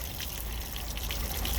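Water drains steadily out of RV plumbing during winterizing, a continuous gushing, splashing flow close by with no voices.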